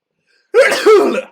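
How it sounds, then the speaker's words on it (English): A single sharp sneeze erupts after a moment of silence, loud and close, with two quick bursts in about a second. "Do you think I just sneezed?"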